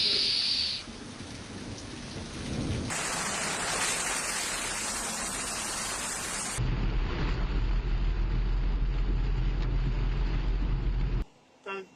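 Heavy rain pours steadily through a Storm Bora downpour in Greece, with a loud broadband roar shifting in intensity and deep low rumbling that suggests thunder, continuous and close throughout.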